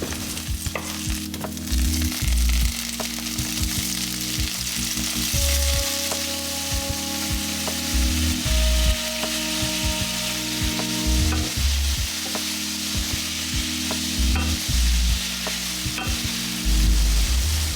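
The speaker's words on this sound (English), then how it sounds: "I sauteed some garlic in a pan and put some tofu in it, some soy sauce" Garlic, tofu and soy sauce sizzle loudly in a hot pan, a constant frying hiss broken by repeated scraping and clanking as a utensil stirs the food around.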